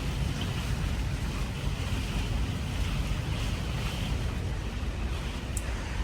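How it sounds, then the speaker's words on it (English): Strong hurricane wind gusts roar continuously around an RV, a loud broadband rush with heavy low rumble and buffeting against the microphone, steady throughout without speech. "I have not seen these kinds of gusts of wind in a very long time."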